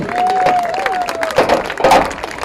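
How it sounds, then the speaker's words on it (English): Crowd applause for high school seniors at a Homestead versus Mukwonago event, broadband clapping with scattered cheers running steadily throughout, a voice speaking over it. "How about one more round of applause for our seniors"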